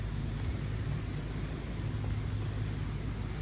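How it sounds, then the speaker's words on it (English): Tractors work in the background at a resort beach, giving a faint, steady low engine rumble mixed with wind noise on the microphone, distant and continuous. "Can you hear the tractors in the background?"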